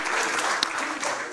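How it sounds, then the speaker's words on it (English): Audience at the Equity Group Holdings 2022 sustainability report launch clapping in appreciation, a brief, steady burst of many hands with one sharper clap standing out near the middle. "Let's appreciate them with a clap."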